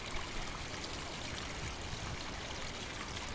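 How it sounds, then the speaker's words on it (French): A clear forest stream flows steadily, its broad, continuous rushing and trickling water close and even throughout, with no voices. "Des ruisseaux clairs partent dans deux directions et coulent à travers la forêt."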